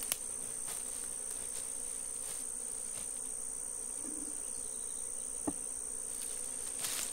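A honeybee swarm buzzes at an opened hive box during a transfer from a nucleus box to a standard box. The hum is steady and faint, with a few soft knocks and clicks.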